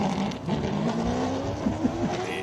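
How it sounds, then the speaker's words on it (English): Hill climb race car fitted with a Hendrix NASCAR engine, loud and close, its engine note rising through gear changes with a brief tire squeal as it accelerates up the course. "Jimmy Giannaccaro in with a Hendrix NASCAR engine."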